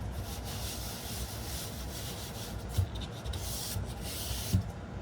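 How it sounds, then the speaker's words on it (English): Hands rub lightly over both sides of a fluid art piece, making a soft continuous scuffing and swishing with a couple of faint bumps, close and quiet with no talk. "I'm going to rub on both sides lightly."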